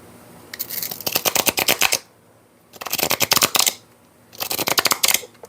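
A deck of stuck oracle cards is riffled and shuffled in three quick bursts of crisp, rapid flutters, each about a second or two long, separated by short pauses, close and loud.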